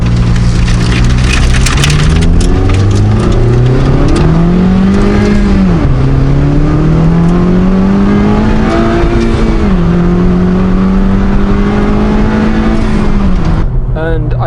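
A turbocharged Honda Civic Type R engine roars as it accelerates, pitch rising in long sweeps with brief dips between gears, loud and close throughout with a steady rushing noise.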